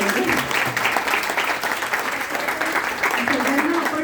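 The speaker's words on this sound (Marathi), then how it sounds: "त्याच्यासाठी खरं एकदा सगळ्यांनी जोरात टाळ्या वाजवल्या पाहिजे" An audience at a business awards function applauds a ladies' business group with sustained, steady clapping, and faint voices can be heard under it.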